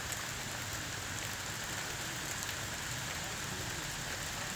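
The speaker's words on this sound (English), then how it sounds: "That's like freezing rain" Freezing rain falls during a December thunderstorm in Connecticut, a steady, even hiss of icy precipitation striking surfaces, faint and unbroken throughout with no voices.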